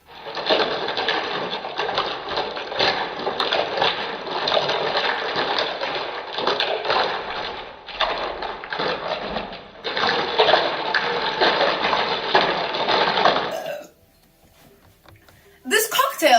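Vigorous shaking of a gin Rickey cocktail with lime, a loud, continuous rattling churn that pauses briefly twice, then stops into near silence before a final burst.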